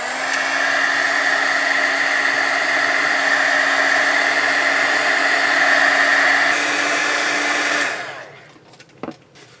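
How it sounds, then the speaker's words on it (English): A heat gun blows with a loud, steady whir for about eight seconds while drying sheets of marbled milk paper, then cuts off, leaving a few faint clicks. "I'm going to use my heat gun on these."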